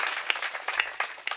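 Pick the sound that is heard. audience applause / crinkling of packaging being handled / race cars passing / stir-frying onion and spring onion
audience applause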